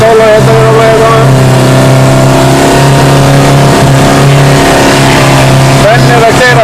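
A car engine hums and revs steadily up close, loud and sustained, with the pitch rising near the end as the car is driven; people talk over it.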